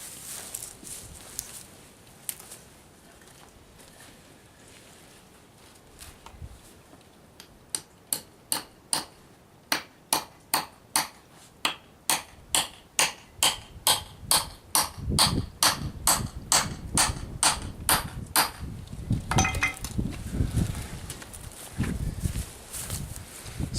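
A nail tapped into a wooden board with a hammer, in a regular series of about twenty-five sharp, close blows that speed up slightly, followed by heavier thuds and rustling handling noise near the end.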